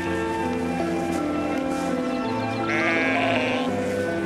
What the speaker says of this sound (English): these sheep are being extremely noisy.